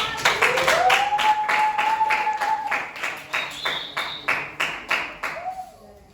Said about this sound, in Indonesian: Wih, Gusti, tepuk tangan